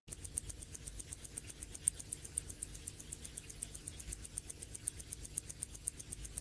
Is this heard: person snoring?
no